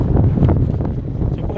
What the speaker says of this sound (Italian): c'è un po' di vento